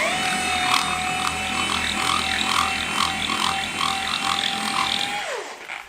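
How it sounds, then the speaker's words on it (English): A dual action polisher runs at slow speed to prime a pad loaded with ceramic coating product, giving a steady whirring hum with a rhythmic pulsing that carries on for about five seconds before spinning down at the end. "So let's just prime it on a slow speed."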